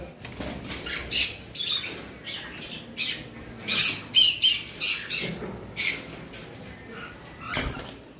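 Several blue conures and other pet birds squawking in short, harsh bursts at irregular intervals, fairly close, with light rustling and fluttering between calls.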